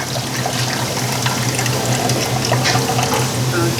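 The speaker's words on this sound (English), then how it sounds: "All the water is draining." Soaking water drains steadily from lentils during soup preparation, a continuous loud pouring and trickling rush that persists without a break and with no talking over it.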